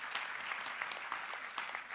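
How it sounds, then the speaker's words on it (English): An audience at a Rwandan Girls in ICT Day event gives the Minister of ICT a round of applause, a dense, continuous wash of many hands clapping at a moderate distance. "Another round of applause for the Minister of ICT."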